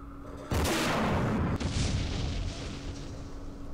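Artillery fire in the wargame Campaign Series Middle East: a sudden heavy boom erupts, followed by a second impact about a second later, then a long rumbling decay of distant shelling, loud and full.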